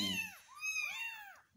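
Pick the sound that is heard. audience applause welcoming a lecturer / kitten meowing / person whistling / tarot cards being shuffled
kitten meowing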